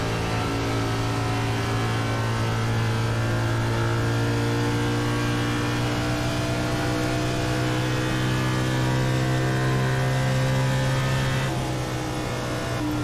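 NASCAR stock car engines drone loudly and steadily in an iRacing sim race at Texas, a sustained multi-car roar with layered harmonic whine and no talk over it.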